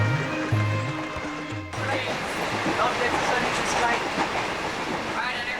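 A passenger train runs through India with a steady, loud rumble and rattle of the carriages, preceded by a brief stretch of tonal hum and faint voice-like sound before the running noise takes over.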